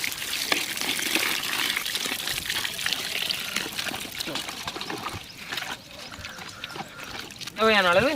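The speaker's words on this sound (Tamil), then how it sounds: "அடுத்து இப்போ புளியை ஊற்ற போகிறோம்." Tamarind water pours steadily into a pot of crab rasam, a continuous gushing splash running several seconds, briefly dipping before a louder final burst; no speech over it.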